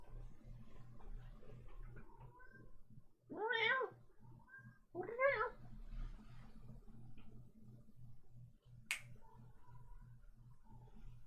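A pet cat meows twice in a quiet room, two clear drawn-out cries a second apart, followed by a sharp click and faint low background hum.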